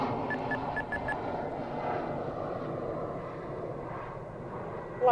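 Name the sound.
E-Flite V1200 RC jet airplane flying at half throttle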